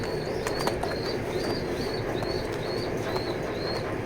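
Racing pigeons in a loft give a steady chorus of soft, low cooing that runs throughout. Repeated higher chirps and a few brief wing flutters sit on top, with no voices.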